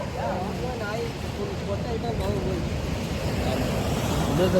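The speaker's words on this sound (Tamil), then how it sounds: "கடல் நல்லா இருக்கப்பா" Sea waves washing onto the shore on the coast near Kanyakumari and Kovalam make a steady roaring wash mixed with wind buffeting the microphone, while people talk over it.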